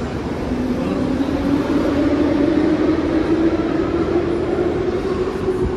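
Old metro station in Tbilisi, with a continuous low rumble and hum of a train running along the track. The rumble stays fairly loud and steady throughout, with no one speaking.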